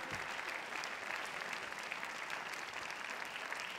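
Sustained audience applause for an award winner receiving a trophy at a French business awards ceremony, a dense, even wash of many clapping hands held steady at constant loudness throughout.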